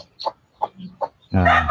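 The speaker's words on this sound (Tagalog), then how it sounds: "Yan po ang inahin." A hen clucks in a few short, evenly spaced low notes, then lets out a louder drawn-out squawking call at close range.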